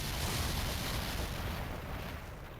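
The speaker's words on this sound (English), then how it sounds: "I heard an explosion somewhere." A dense, roaring explosion in the video game Ghost Trick: Phantom Detective, filling the sound for nearly three seconds as a broad, rumbling blast that slowly eases off toward the end.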